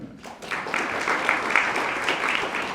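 Steady audience clapping at an awards ceremony for professional service, a dense crowd applauding continuously for about three seconds at moderate loudness with no pause.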